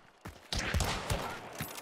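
Gunfire in the Hunt: Showdown shooter game: several sharp, loud shots crack in quick succession over a noisy, busy background, with a final report near the end.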